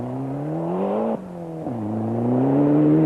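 Ford Escort Cosworth rally car engine revving hard through a snowy hairpin, a loud close roar rising in pitch, dipping briefly at a gear change, then climbing steadily again.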